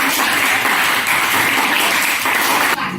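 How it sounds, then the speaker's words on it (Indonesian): A class of pupils applauds during a lesson, dense continuous clapping close and loud from many hands, ending abruptly near the close. "Tepuk tangan dulu untuk"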